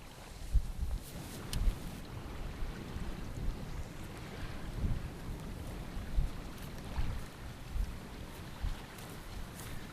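Steady wind gusting over open water during a fishing outing for darting and finger jigging lures, with a low rumbling roar and buffeting microphone noise throughout, no voices.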